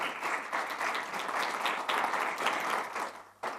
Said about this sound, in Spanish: le damos un fuerte aplauso a nuestro auspiciador de este congreso